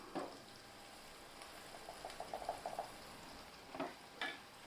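Ground paste being stirred into pearl onions frying in a pan for an oil-rich eggplant curry, with a soft steady sizzle and scraping stir strokes, a cluster of small bursts in the middle, alone without talk.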